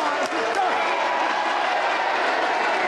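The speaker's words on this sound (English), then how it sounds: "And some more applause for that" Steady applause from a wrestling crowd at a 1981 bout between Chris Adams and Mark Rocco, a broad continuous clatter of clapping filling the hall at even loudness throughout.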